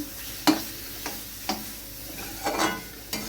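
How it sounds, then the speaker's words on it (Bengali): Spinach and soy chunks stirred with butter in a pan using a spatula, a few separate scraping strokes over a faint sizzle, close and alone. "বাটারটা দিয়ে আবার একটু ভালো করে খুন্তি দিয়ে নেড়ে নিলাম"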